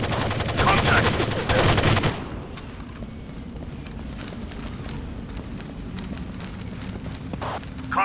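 Rainbow Six 3 firefight with dense, loud automatic gunfire for about two seconds, then a steady lower rumble of continuing distant shots and battle noise.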